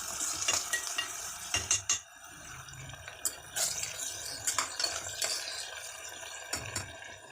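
Chicken gravy with mint leaves stirred in a pan, a spoon scraping and clinking at irregular intervals over a soft, steady sizzle close by.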